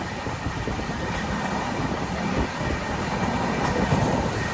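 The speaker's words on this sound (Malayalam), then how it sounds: "ട്രെയിൻ അത്യാവശ്യത്തിന് നല്ല സ്പീഡിൽ തന്നെ പോവാ." Ernakulam Patna Express running at speed, a steady loud rumble of wheels and carriages with continuous rattling and a faint high whine throughout, no pauses or voices.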